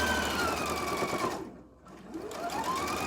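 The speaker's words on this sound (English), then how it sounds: "And I'm going to again sew." A sewing machine stitches an improvisational log cabin quilt block in a steady, close, continuous run that slows and briefly pauses midway before picking back up to full speed.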